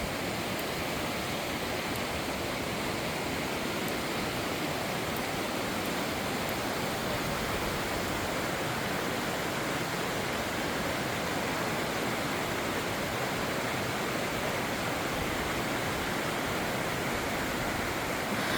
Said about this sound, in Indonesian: Keindahan air terjun menawarkan pesona alam yang menenangkan sekaligus menyegarkan.